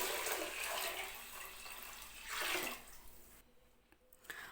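A quiet stream of water pours and splashes into a pot for cooking rice, swelling briefly before cutting off, leaving near silence with a faint clink at the end.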